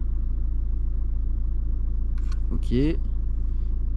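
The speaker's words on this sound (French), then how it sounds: "Donc on va démarrer le moteur, ce qui est fait." A Renault Scénic engine starts with a short cranking burst and then settles into a steady, close idle rumble, while a voice speaks briefly over it.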